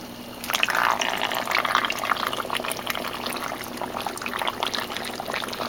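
Water pours and splashes steadily off an ocean filtration unit as it is lifted out of the water, a continuous close cascade with no talking.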